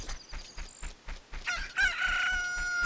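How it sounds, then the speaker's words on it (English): A rooster in the video game Ocarina of Time crows loudly and alone, after a run of rhythmic game sound effects, with the cock-a-doodle-doo call sustained to the end. "I like to think it's the chicken saying that."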